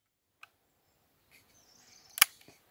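Browning Maral straight-pull hunting rifle being cycled by hand: a faint click, soft handling noises, then a sharp metallic clack of the action closing, followed by a small tap, close and without talk.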